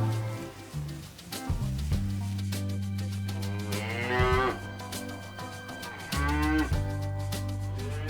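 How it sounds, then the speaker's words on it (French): A cow standing alone in its pasture moos loudly and up close in long drawn-out calls, with a faint patter like light rain in the background. "la vache, toute seule dans son pré, elle est là"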